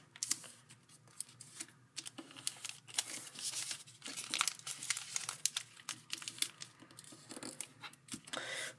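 Paper being folded, rotated and flipped over while making an origami crane: close, crisp crinkling and rustling in irregular bursts, with soft taps and creases, no talk.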